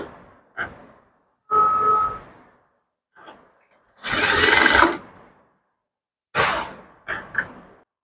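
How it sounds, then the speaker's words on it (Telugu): Sewing machine stitching piping thread onto the neck of a plain blouse, in several short bursts of whirring separated by quiet pauses, close and alone. "ఈ పైపింగ్ థ్రెడ్ని మనం ఈ నెక్క మీద పెట్టి కుట్టుకోవాలండి."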